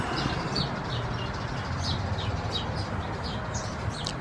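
Young birds in a tree give faint, scattered high chirps and tweets in spring, repeating in quick bursts over a soft background hiss.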